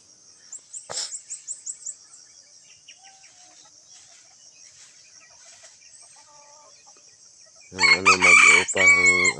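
Among a flock of pet chickens, faint clucks and chirps sit over a steady high hum, then a rooster lets out a loud, close, full crow near the end.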